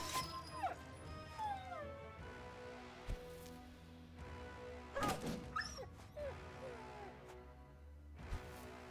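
War dogs in the Battle Brothers video game bark and yip in short bursts during a battle, with a whimper among them, over thuds and clashing game effects.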